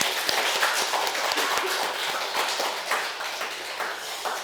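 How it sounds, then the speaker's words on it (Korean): Audience applause in a Won Buddhist temple service, a dense steady patter of many hands clapping continuously throughout, close and fairly loud with no talking. "우리 박범준 교우한테 큰 박수 한 번 더 부탁드려요."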